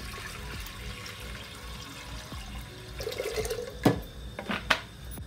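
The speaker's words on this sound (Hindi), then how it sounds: "अब इसमें एक लीटर पानी डाल देंगे।" Water pouring into a pressure cooker on a stove: a soft running trickle that builds into clearer splashes and gurgles near the end, fairly quiet and close, with no talking.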